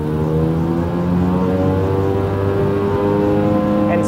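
Straw Master straw blower engine running at a steady drone with strong low harmonics, close and loud, its pitch holding almost level as throttle is given.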